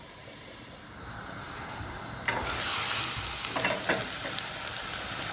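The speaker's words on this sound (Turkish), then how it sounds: "Aynı tavuğun yağında orta ateşte soğan da kavuracağız." Onions hit hot chicken fat over medium heat partway through and a loud, steady sizzle takes over, with occasional stirring scrapes over the crackling hiss.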